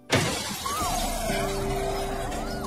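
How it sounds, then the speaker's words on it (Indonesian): A glass window shatters as a chair is thrown into it in an office room: one sharp loud crash followed by ringing, tinkling shards and a lingering resonant tone. "melempar kursi hingga kaca di ruangan itu pecah"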